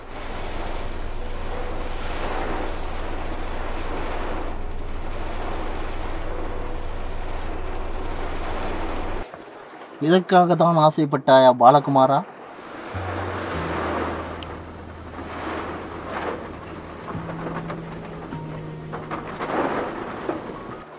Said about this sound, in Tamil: இங்கே வந்த உடனே மழை ஸ்டார்ட் ஆகிடுச்சு, மின்னல் மின்னுது